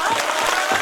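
Brief burst of audience applause at a gathering, dense clapping that fills the moment under faint background voices.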